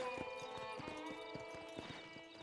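A horse in the Red Dead Redemption video game trots along with a steady, rhythmic clip-clop of hooves, clear and evenly paced.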